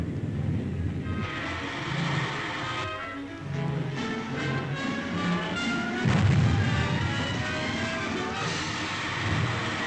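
Sustained barrage of aircraft gunfire from a 1938 Flash Gordon serial, a steady rumbling clatter of rapid shots with heavier booms that swell loudest around the middle and continue throughout, with music or engine drone mixed in underneath.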